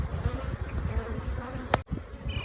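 Honeybees buzz steadily and close at an opened hive during a check before a tropical storm, a dense hum broken by a brief clack near the end.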